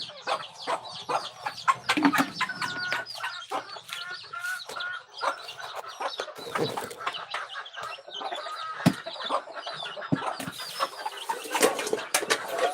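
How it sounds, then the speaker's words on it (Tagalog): Chickens cluck repeatedly and close by in a farmyard, with busy overlapping calls and occasional sharper squawks, a rooster among them, and no talking. "Saway na manok."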